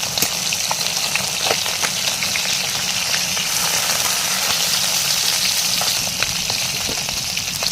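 Small and large fish fry in hot oil in a pan at home, giving a steady, dense sizzle with crackling pops that runs unbroken throughout, close and fairly loud.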